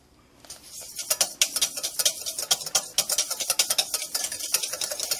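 Hollandaise sauce being whisked as butter is added drop by drop to emulsify it, a rapid, rhythmic clatter of a whisk against a bowl, close and crisp, starting after a brief quiet moment and continuing steadily.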